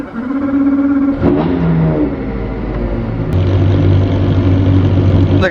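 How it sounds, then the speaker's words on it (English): A Mini John Cooper Works GP fires up with a sharp crank and catch, then settles into a loud, steady rumbling idle with bursts of revving, close and alone throughout. "For now though, let's get it fired up. In the key goes then."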